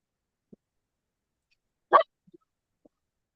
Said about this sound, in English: Oh, I heard a bark.